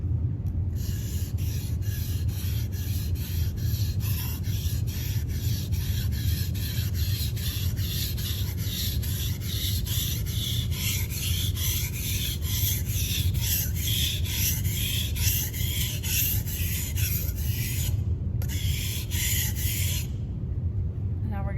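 A knife blade is drawn repeatedly across a lubricated whetstone in steady, rhythmic rasping strokes, close and continuous, with a brief pause near the end before the strokes resume.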